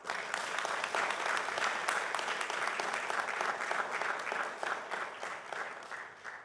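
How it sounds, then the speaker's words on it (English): Sustained applause from a large audience of students, parents and principals at a primary and secondary schools literary competition award ceremony, a dense, steady roar of clapping that holds throughout and eases slightly at the end. "ask you just to applaud all of those persons who made this possible"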